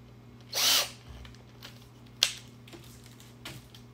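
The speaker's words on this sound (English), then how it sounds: "Take my drill." A power drill bores a hole with a Cobra Engineering drill fixture, close up: one sustained whirring burst, then two brief, sharper spurts, with no talking.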